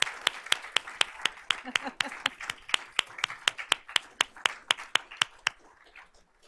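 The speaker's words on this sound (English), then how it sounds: "Let's give these students a round of applause." At a school board of trustees meeting, an audience applauds students with a steady run of sharp, separate claps that thins out toward the end, heard from a moderate distance.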